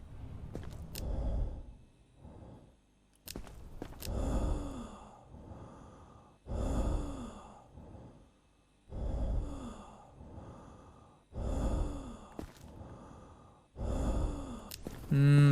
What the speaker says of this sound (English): That just sounds like sickly breathing